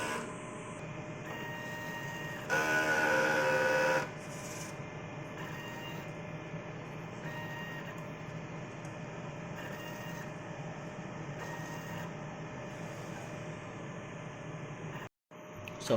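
An inkjet printer runs a cleaning cycle, giving a steady mechanical whir and hum with a louder burst of motor activity near the start and brief pauses in between, and no voices.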